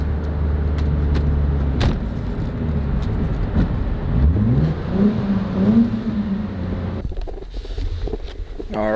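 A 1998 GS300 with a modified exhaust revs up and down with a throaty exhaust rumble, rising and falling in pitch, with wind noise buffeting the microphone.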